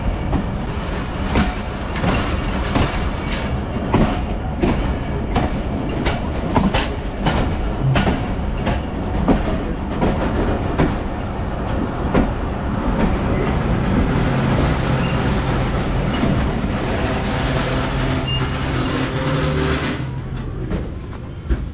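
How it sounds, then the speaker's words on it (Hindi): Hazara Express train rolling into Gujar Khan railway station in Pakistan, a steady loud rumble with rhythmic clickety-clack of wheels over rail joints throughout, no talk. "गुजर खान रेलवे स्टेशन पे अभी हमारी ट्रेन ने अप्रोच बनाई है"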